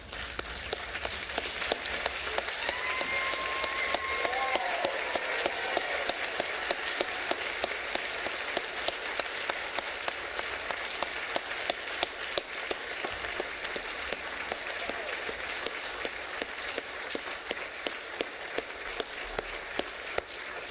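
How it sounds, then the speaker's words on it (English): A standing audience applauds award winners at the Golden Horseshoe 2022 ceremony, a long, steady wash of crowd clapping that holds at an even level for about twenty seconds with no talk over it. "please stand and applaud our newly knighted Golden Horseshoe winners"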